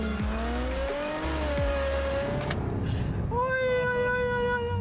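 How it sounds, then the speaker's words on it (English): A car speeds along the German Autobahn, its engine loud and close with rising and falling harmonic whines as it accelerates, then a fresh higher-pitched surge after a brief dip. "Germany is literally the only developed country where cars like this can go as fast as they can."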